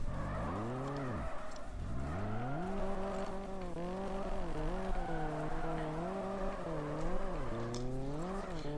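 A small car drifts in a Japanese street-drifting video game, its engine revving in wavering arcs while tires squeal continuously, loud and close with no pauses.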